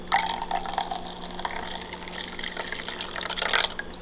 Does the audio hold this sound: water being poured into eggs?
yes